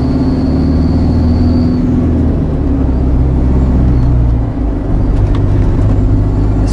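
An automatic HGV truck drives along a road near Abingdon, a loud steady engine drone and road rumble heard from inside the cab throughout, with no talk.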